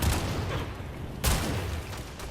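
Redeemer shotgun blasts in Warframe, a heavy booming shot at the start and another sharp, loud blast partway through, each trailing off into a rumbling decay.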